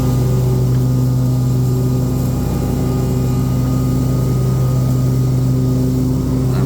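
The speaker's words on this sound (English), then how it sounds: "Hear that Kawasaki motor working against that shed." A Kawasaki-powered lawn mower fitted with a mulch kit drones steadily and loudly while chewing through leaves, its low even engine hum running without a break and no voices over it.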